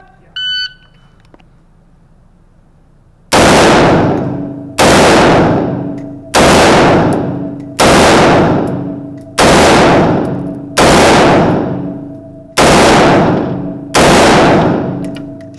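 At a Halloween 3-Gun shooting competition stage, a short electronic start beep is followed by eight sharp, loud gunshots fired at a steady, even cadence, each leaving a brief ringing decay.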